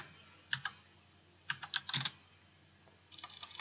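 Keystrokes on a computer keyboard while text is typed into a Sony Movie Studio 13 editing session, coming in short bursts of close, crisp clicks with pauses between them and a quicker run of taps at the end.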